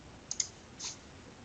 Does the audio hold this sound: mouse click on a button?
yes